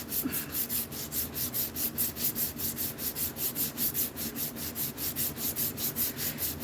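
A knife blade sanded by hand at 80 grit, a close rhythmic rasping of regular back-and-forth strokes, about four per second, steady throughout with no talk.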